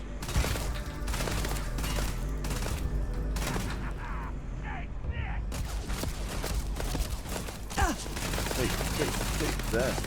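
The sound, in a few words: gunfire from shooting in the video game Starfield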